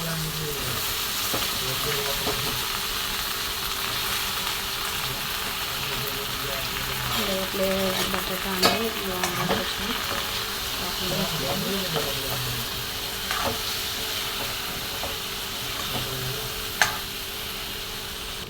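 Eggplant and potato pieces fry in oil in a pan with a steady close sizzle and occasional stirring scrapes, while someone talks over it.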